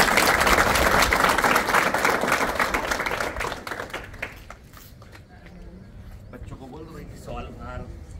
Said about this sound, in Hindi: चलो फिर ताली बातें जोरदार अपने।